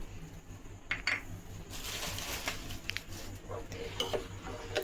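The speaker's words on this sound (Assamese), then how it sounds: "এতিয়া এনেকৈ লৰাই থাকিব লাগিব" A spoon scrapes and taps against a pot as milk custard is stirred, soft and close, with occasional light clinks over a steady background hiss.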